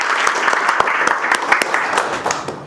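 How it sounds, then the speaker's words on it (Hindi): Students in a classroom clapping loudly for their families, a dense, steady patter of many hands with sharp individual claps standing out across the whole stretch. "एक बार अपनी फैमिली के लिए जोरदार ताली बजाओ"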